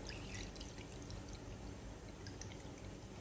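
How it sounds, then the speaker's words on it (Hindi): A steady stream of water pouring continuously into a cooking pot of kadhi batter, close and even, with faint splashy detail throughout. "और इसके अंदर इतना ही आपने पानी शामिल करना है।"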